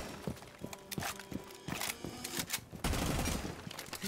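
Rapid bursts of video game gunfire crack out in uneven volleys, sharp broadband shots loud and close, with a heavier blast near the end amid game background noise.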